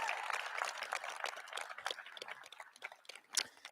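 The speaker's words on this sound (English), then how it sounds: "Clap for all these guys." An audience claps at a high school graduation ceremony, a scattered patter of hands from a modest crowd that fades toward sparser individual claps.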